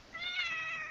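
A house cat meows once, a drawn-out, fairly close cry lasting nearly a second with no one talking over it.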